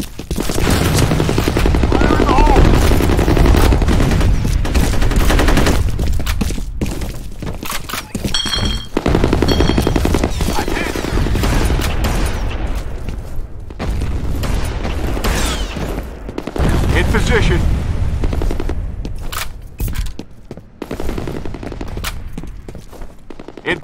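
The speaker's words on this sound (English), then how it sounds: "Grenade out." A grenade blast amid heavy gunfire in the shooter game F.E.A.R., a loud, dense, continuous barrage of shots and thudding impacts lasting throughout, with a few brief lulls and no speech.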